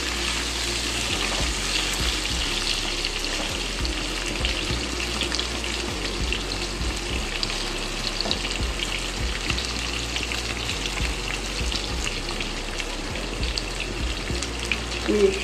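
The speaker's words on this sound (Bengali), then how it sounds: "এগুলো ভাজা হতে থাক।" Potato and taro pieces frying in oil for a Bengali curry give off a continuous, even sizzle and hiss, with light scattered crackles and no voices.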